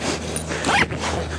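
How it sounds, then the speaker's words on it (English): Zip closing on a 23Zero Bandit 1100 canvas swag, a short close rasping pull running for about a second, with a dog's faint whimper mixed in. "and then just zip him up."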